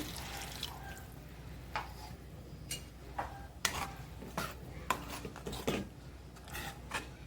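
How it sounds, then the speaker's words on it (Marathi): Dish-rinsing water poured into hot, sizzling masala for a kingfish curry, with a few sharp crackling drips and splashes scattered over a quiet background. "ह्याच्यात मी हे भांडं धुवून ठेवलेलं पाणी आहे ते ओतते"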